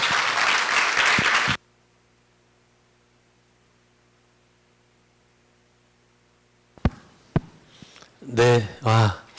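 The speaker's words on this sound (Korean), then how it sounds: "뜨거운 박수로 맞이해 주시기 바랍니다" Audience applause at a forum welcoming a keynote speaker, a brief burst of clapping in a hall that stops abruptly, followed by a long near-silent stretch with faint hum and then talking.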